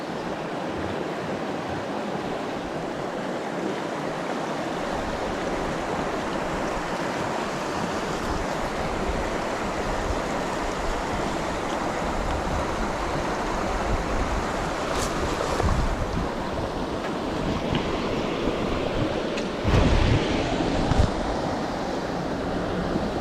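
Swift river current flowing past a snag-filled fishing spot, a steady broadband rush of moving water with gusts of wind buffeting the microphone, continuous and fairly loud throughout, no voices.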